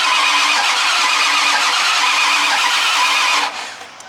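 A Ford F250 truck's engine cranks steadily, a loud continuous whirring grind that cuts off abruptly after about three and a half seconds, leaving a quiet tail.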